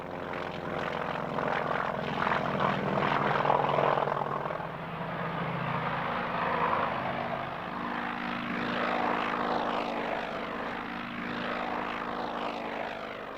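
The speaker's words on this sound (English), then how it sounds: "They're followed by the Grumman Avenger torpedo bombers." Grumman Avenger torpedo bombers in a flypast at a British airshow, their piston propeller engines droning loud and steady with a slowly shifting pitch as they pass overhead.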